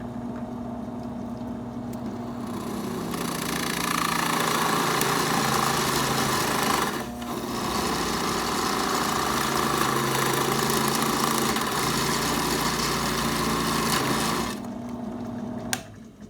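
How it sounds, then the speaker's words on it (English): Drill boring a shallow starter hole, about a quarter to three-eighths of an inch deep, into a wooden block; a steady loud motor whine runs for roughly eleven seconds with a brief dip midway, starting and stopping abruptly. "So first, you just want to drill down about 1/4 of an inch or 3/8"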